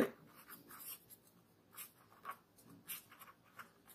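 Pen or pencil writing out a class 6 decimal fraction math solution by hand, soft scratchy strokes coming in short bursts with pauses between them, close and faint.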